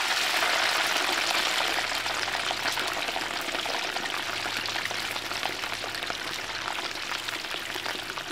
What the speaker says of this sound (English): lowers the boned and filleted fish into very hot palm oil